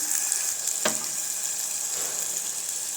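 Vegetables for Gujarati-style valnu shak, made with val beans, fry steadily in a pan with a continuous bright sizzle, plus a brief louder crackle burst partway through.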